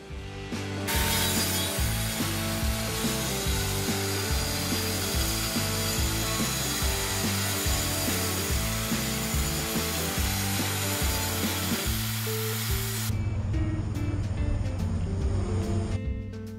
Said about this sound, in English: clamp down a straight edge, grab your circular saw, and just rip off the ends.